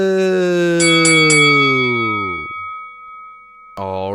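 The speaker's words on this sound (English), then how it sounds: "Ring that bell." A ringing bell struck in the studio of a UFC and MMA fight podcast, loud metallic strikes with a long shimmering decay that fades out, followed by another sharp strike near the end.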